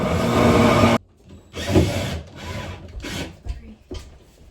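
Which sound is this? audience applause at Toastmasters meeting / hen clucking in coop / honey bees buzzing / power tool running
power tool running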